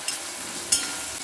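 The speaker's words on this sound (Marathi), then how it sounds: "1/2 चमचा मी हिंग घालते" Asafoetida tipped into hot oil for a tomato dal tempering, giving a faint steady sizzle with a short sharp crackle burst partway through, close and without talk.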